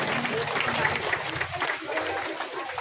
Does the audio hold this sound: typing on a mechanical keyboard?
no